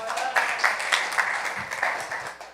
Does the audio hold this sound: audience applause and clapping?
yes